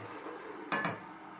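A lid is set back onto a cooking pot of simmering chicken liver adobo, making one short metallic clink over a quiet background of low cooking noise.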